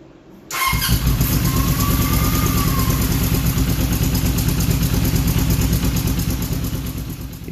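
An old Honda Nighthawk motorcycle engine catches after a quiet moment and then runs steadily and loud up close with a rough, uneven idle that lasts the rest of the clip.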